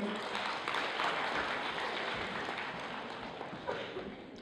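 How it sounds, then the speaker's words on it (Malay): Audience applause at a media program event: a dense, continuous patter of clapping from a room full of people, steady and moderately loud, tapering slightly toward the end. "Tepuk tangan mereka."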